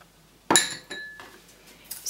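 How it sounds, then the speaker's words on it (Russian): A metal fork clinks sharply against a glass bowl while mixing pizza dough ingredients: one bright, ringing strike followed by a few lighter, scattered taps, close by and without talk. "Разбалтываем вилочкой или венчиком"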